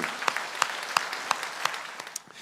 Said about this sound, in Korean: 그렇게 되길 원하시면 박수로 영광.